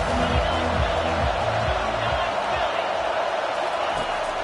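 Crowd noise in the NCAA 25 football video game, a dense, loud stadium roar with rhythmic low chanting and stomping pulses in the first half, easing into a steady wash.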